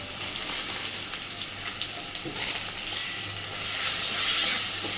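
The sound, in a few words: Gobindobhog rice added to frying spice paste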